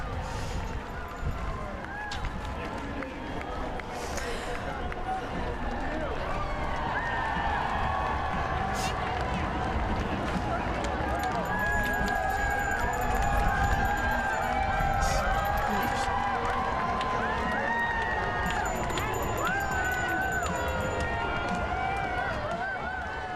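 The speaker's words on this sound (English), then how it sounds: "So much cheering as different groups go by." Dense outdoor crowd noise along the route of the Victoria Pride Parade, steady and continuous with scattered whistles and claps as parade groups pass, a broad wash of cheering voices with no single voice standing out.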